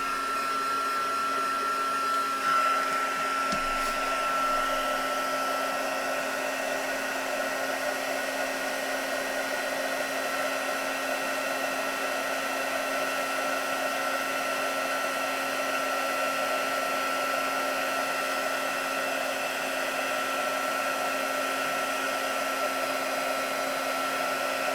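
Heat embossing tool melting stamped embossing powder on a journal cover, a steady close blowing hum that runs unbroken throughout with no talking.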